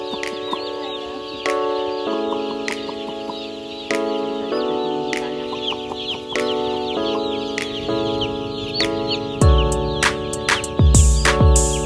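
Chickens cluck and squawk steadily at a poultry farm of about 13,000 birds in Trantang village, Kerek, Tuban, with overlapping calls, occasional sharper cries and wing flaps close by, growing busier toward the end.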